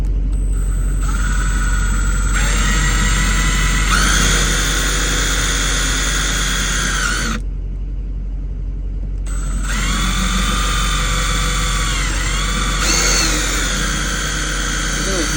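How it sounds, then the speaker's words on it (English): A power drill bores into the lock of a car console vault, a loud sustained whine with shifting pitch that cuts out briefly midway, then resumes steadily to the end. "I'm gonna drill right into it."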